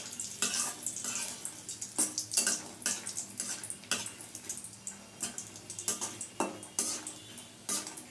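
Lentil dumplings (bori) fry in hot oil in a wok, with a spatula repeatedly clinking and scraping against the metal in uneven strokes over a soft, steady sizzle.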